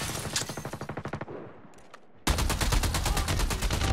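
Rapid automatic fire from an EM2 rifle in a ranked online shooter match, loud sharp bursts in two strings separated by a brief lull.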